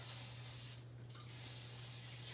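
A can of canola oil cooking spray gives a steady, close hiss across the whole clip, dipping briefly near the middle, over a constant low hum.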